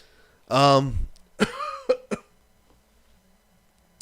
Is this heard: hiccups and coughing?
yes